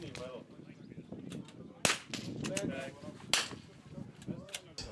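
Rifle gunshots at an NRL22 shooting match crack out as a few sharp, fairly distant reports, separated by gaps, over low outdoor background noise and faint indistinct voices.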